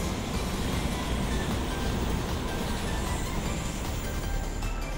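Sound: Hanshin train passing through station

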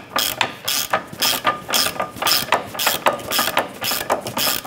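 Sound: ratchet snugging down nut and bolt on control arm

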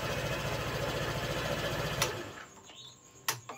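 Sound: Honda PCX scooter engine starting and running

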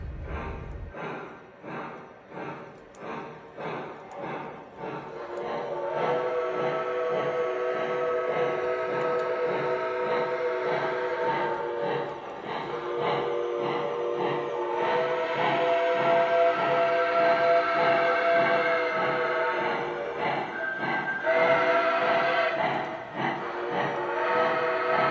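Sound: Lionel Legacy Mohawk 4-8-2 model train moving

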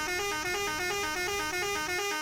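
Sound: truck horn honking in video game

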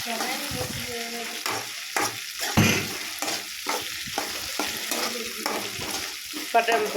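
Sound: brinjal frying with salt in a pan

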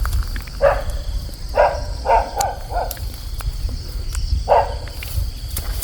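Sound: dog barking in the forest

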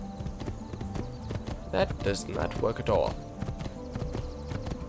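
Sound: horse hooves clip-clopping in the video game Assassin's Creed 2

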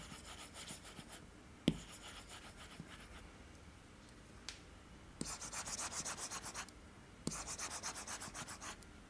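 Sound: stylus pen dragging across Wacom MovinkPad matte glass display

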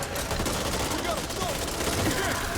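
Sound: gunfire in the video game Back 4 Blood

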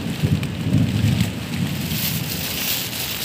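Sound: thunderstorm with rain at sea

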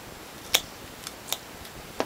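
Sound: cutting a broken juicer power cord wire

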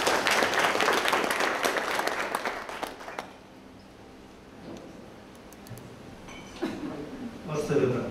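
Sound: audience applause welcoming a speaker

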